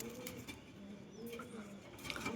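Golden pigeons coo softly in a low, rolling murmur, faint and close, with a few brief chirps and light background noise.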